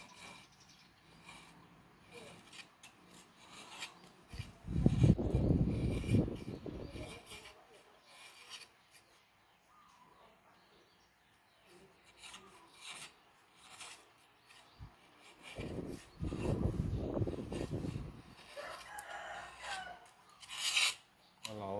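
Rough scraping bursts of a knife shaving bamboo strips, two main stretches of rasping strokes separated by quieter pauses, close and fairly loud.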